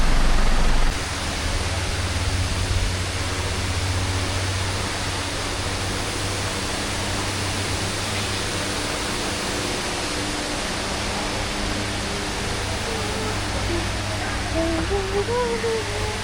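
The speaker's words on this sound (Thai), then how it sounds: "น้ำตกอยู่ริมถนนแบบนี้เลย" Bunyaban waterfall beside a road in Ranong, Thailand, pours as a steady, dense broadband rush throughout, with a voice talking faintly over the water.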